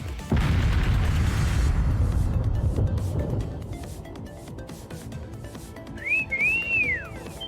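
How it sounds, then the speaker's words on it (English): A whistle sounds in the video game Trails of Cold Steel 3, with rising and falling tonal whistling near the end after a loud booming burst and rumble at the start, with no talking. "That whistle."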